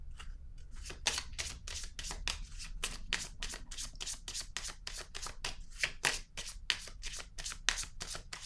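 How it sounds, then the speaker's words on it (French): Tarot cards being shuffled before one is drawn: a long run of quick riffling bursts, close and fairly steady, with no talking. "Je vais piger une carte sur la déception."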